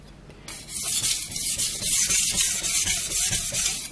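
A knife's steel is ground on a Shapton 320 whetstone in steady, continuous back-and-forth rubbing strokes, close and fairly loud, with a gritty abrasive rasp that begins after a short quiet moment.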